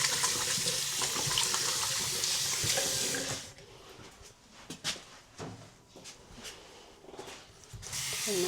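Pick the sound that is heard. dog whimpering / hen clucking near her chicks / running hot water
running hot water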